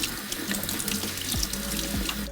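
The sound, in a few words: rinsing canned beans under running tap water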